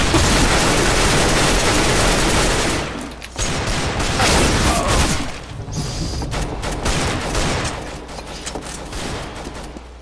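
Dense, continuous gunfire in Counter-Strike: Global Offensive, with rapid overlapping shots and bursts throughout, loud and close, briefly thinning near three seconds before resuming.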